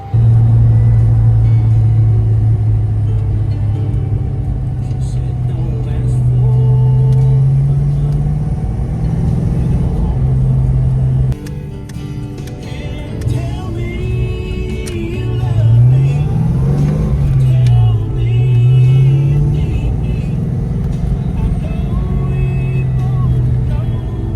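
A Ford Mustang Fox body car with a newly installed adjustable clutch cable and shifter drives off, its engine rumbling steadily, rising and falling as it accelerates and shifts, heard from inside the car with brief talking.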